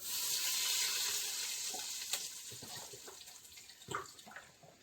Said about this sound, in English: we're going to take some beef broth and pour some beef broth inside our Ninja